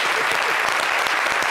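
TV talk show studio audience clapping in a thick, even burst of applause, loud and close, continuous for its brief length with faint voices underneath.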